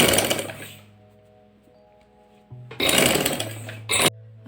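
Sewing machine stitching cotton lawn fabric in two loud bursts of fast whirring, separated by a quiet pause with a steady motor hum, close by and without speech.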